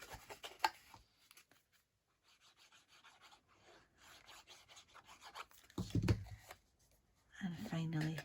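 Paper card for a small shower gel box is folded and glued by hand, giving soft intermittent rubbing and creasing rustles, quiet and close, with a few brief louder scrapes of paper.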